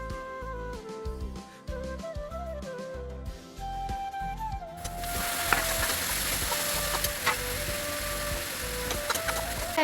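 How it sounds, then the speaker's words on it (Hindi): Oil heating in a cooking pan on a home stove, giving a steady sizzle that grows louder and denser partway through, over clinking kitchen sounds and faint background music. "तो गाइस मैंने तेल भी डाल दिया, अब इस तेल को थोड़ी देर होने देते हैं"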